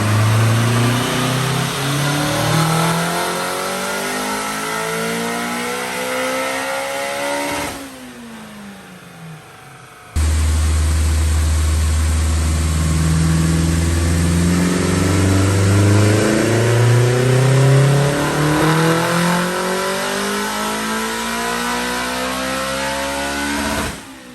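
Turbo Acura RSX engine on a dyno, revving hard with rising pitch sweeps, a brief drop at a shift, then a long loud climb to a high-rpm roar, close and alone.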